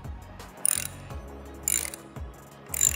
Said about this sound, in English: I'm gonna tighten it down again.